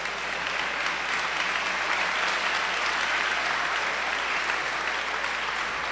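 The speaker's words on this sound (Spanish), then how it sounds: "esta comunidad le reconozca con un aplauso" An audience applauds at a folk festival in Guanacaste, a dense, steady roar of many hands clapping at even loudness for the whole stretch, with no break.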